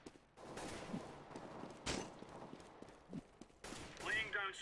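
Gunfire bursts from the CS:GO shooter, heard as several sharp cracks spread across a few seconds, mixed with game noise and a player's voice talking over the action.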